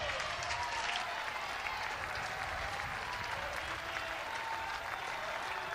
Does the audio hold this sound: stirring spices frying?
no